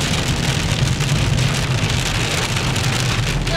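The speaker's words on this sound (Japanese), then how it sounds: "雨が降っています。" Heavy rain pours down steadily at Mesa Verde National Park in Colorado, a dense, continuous hiss of drops drumming on surfaces with a low rumble underneath, no voices.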